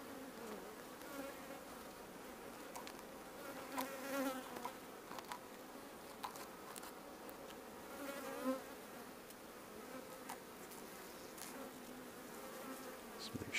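Honey bees buzzing around a hive frame while being moved into a top-bar hive, a dense droning swarm with individual bees zipping close by and occasional clicks of handling.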